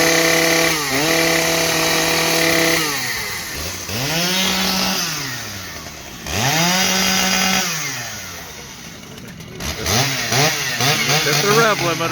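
A big chainsaw, a Husqvarna 3120XP or Stihl MS881, revs repeatedly up to its rev limiter, loud rising and falling engine sweeps that end in rapid limiter stutter, close by.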